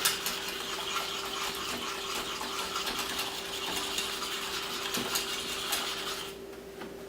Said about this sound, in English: just give it one more quick whisk